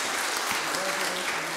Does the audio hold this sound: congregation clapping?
yes